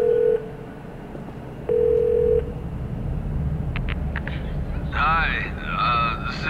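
A telephone number is keyed in the video game The Darkness, with a few loud steady dial tones followed by brief beeps, then a voice speaks with a warbling, processed quality.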